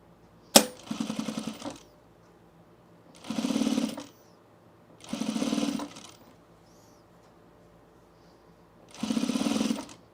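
A sewing machine stitches a fleece quarter-zip pullover in four separate bursts of steady whirring, each lasting a second or so with quiet pauses between, plus a sharp click at the start, close and moderately loud.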